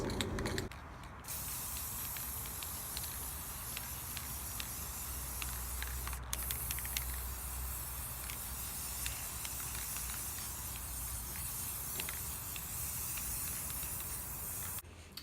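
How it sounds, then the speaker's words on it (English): Aerosol spray paint hisses in long continuous bursts onto glass mason jars, close by, with brief pauses and a few clicks between sprays. "we're gonna go ahead and spray all of these"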